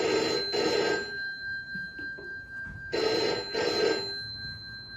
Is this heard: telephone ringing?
yes